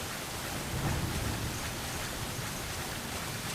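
Steady heavy rain with thunder in Monster Hunter Frontier Z, a dense continuous hiss of downpour with a low rumble swelling briefly underneath, no voices.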